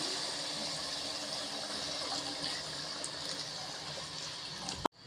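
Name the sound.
pouring a glass of water into nargisi kofta curry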